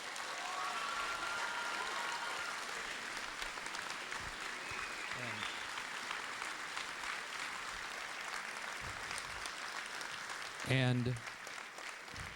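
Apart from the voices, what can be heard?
applause for the seniors at a band concert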